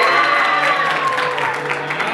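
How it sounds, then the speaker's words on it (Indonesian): Applause breaks out for a student group at a vice-president election debate for the student council of SMK Strada Budi Luhur, many hands clapping steadily and close. "Oke, tepuk tangan dulu buat kelompok 2."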